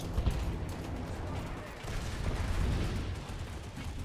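Gunfire from a multiplayer shooter video game, a dense rolling barrage of shots and distant blasts, fairly faint and continuous throughout.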